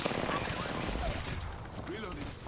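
Rapid automatic gunfire from the video game Apex Legends rattles loudly and continuously, dense bursts filling the short stretch alongside game sound effects.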